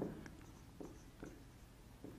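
A marker or pen scratches in short, quiet strokes across a board, several brief rubbing bursts spaced irregularly, faint and close with no speech.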